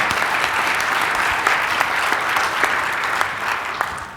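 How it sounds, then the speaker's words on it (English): At a luncheon gathering, an audience breaks into sustained applause, many hands clapping in a thick, even roar with a few sharper individual claps standing out near the front. "Give yourselves a big round of applause"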